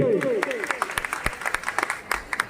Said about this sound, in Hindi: जोरदार तालियां दोनों भाइयों के लिए।